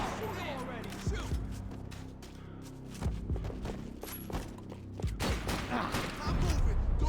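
Gunfire from a shootout in the video game Max Payne 3, repeated shots and thuds scattered through the fight, with shouting voices over the top and a heavier burst near the end.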